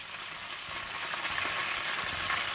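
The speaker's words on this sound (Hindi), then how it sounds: "हल्की आंच पर रखकर फ्राई करने के बाद आप इन्हें निकाल लीजिएगा" Chicken drumsticks frying in oil over low heat, a steady soft sizzle and crackle filling the pan throughout, close and even with no voices.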